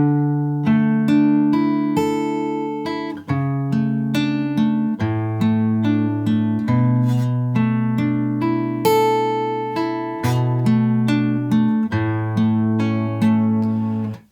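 A guitar plays a song's line slowly, clear plucked single notes and ringing intervals in an unhurried, even rhythm, close and alone.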